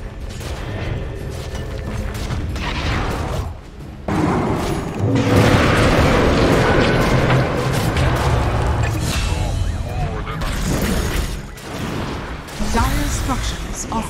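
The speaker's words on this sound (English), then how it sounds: "Dire's top tower is under attack" Dota 2 match with a defensive tower under attack: continuous loud booming impacts and mechanical clatter of battle, dense and sustained, with speech layered over the fighting.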